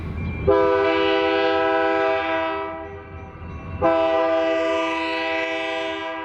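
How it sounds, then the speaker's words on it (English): A train passes while its horn sounds two long, loud, sustained blasts with a short gap between them, over a low rumble of the rolling cars and no voices. "And there's the train"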